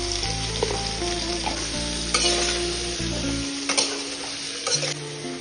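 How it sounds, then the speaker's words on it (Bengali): Vegetables with salt and turmeric sautéing for a Bengali shukto, a steady close sizzle with scraping stirs and clanks throughout, no voices. "এবার তাতে কিছুটা পরিমাণ মতো নুন, হলুদ দিয়ে কষাতে থাকবো।"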